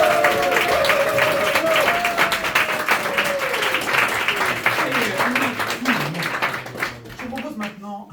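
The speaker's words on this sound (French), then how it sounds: "je vous propose de faire un tonnerre d'applaudissements pour eux et elles" Theatre audience giving actors a thunderous round of applause, dense clapping that stays loud for several seconds then thins and fades toward the end, with a voice speaking over it.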